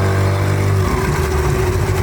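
A brand-new Yamaha outboard motor from Amazon runs loud and close, with a steady low engine drone whose pitch shifts partway through, and no voices.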